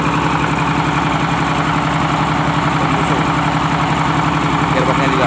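A large Fuso truck's diesel engine idles close by, a loud, steady rhythmic rumble with a pulsing low throb that carries throughout without a break.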